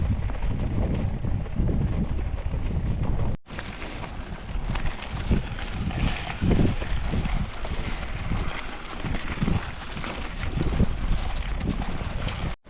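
Steady cold wind gusting against the microphone on a mountain bike trail in Tasmania, a low rumbling buffet that rises and falls, with a brief dropout partway through.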